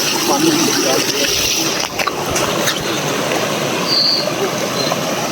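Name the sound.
flowing stream water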